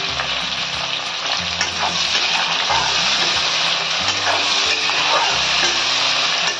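Slit green chillies and onion fry in oil alongside tomato for a rohu fish kalia, a loud continuous sizzle with a low rhythmic bumping of stirring beneath it throughout.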